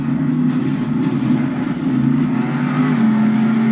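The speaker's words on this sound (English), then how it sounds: "So this is how I drive the truck." A truck's engine in a driving video game, played with a controller, drones steadily and loudly for several seconds with a constant low hum and no voices over it.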